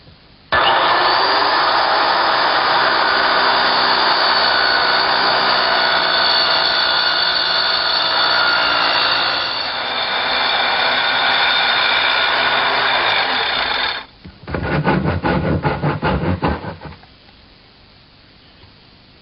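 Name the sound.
circular saw plunge-cutting plywood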